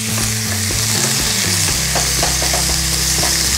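Beef frying in a hot pan while being stirred, a loud, dense, continuous sizzle with scraping strokes and clatter of the utensil against the pan, close up and with no talking.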